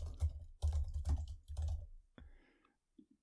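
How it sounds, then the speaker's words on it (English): Computer keyboard typing in a room, three close bursts of rapid clicking keystrokes followed by a couple of isolated taps, fairly loud and with no one talking. "there's a lot of typing you're doing over there"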